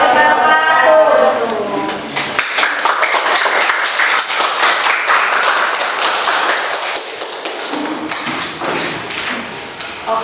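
A classroom audience claps after a group presentation, a dense burst of applause that thins into scattered claps and taps over about ten seconds, with a voice at the start.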